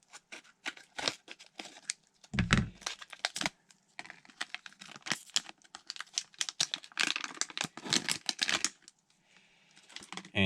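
Plastic wrapping on a Beyblade Burst booster pack is torn and crinkled open close by, in quiet bursts of rustling, crackling and ripping spread across several seconds.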